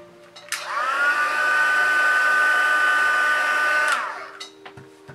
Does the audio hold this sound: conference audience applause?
no